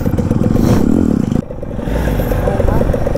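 A motorcycle revs hard and roars along at speed during wheelie riding, loud and close with a rattling engine note, a brief dip midway before the throttle picks up again; voices talk over it.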